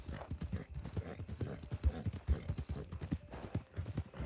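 Horse hooves clip-clop in a steady, close rhythm in a role-play video game, with brief bursts of louder thuds standing out over the even trotting.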